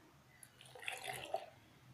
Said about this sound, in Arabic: هنفضي فيها الميه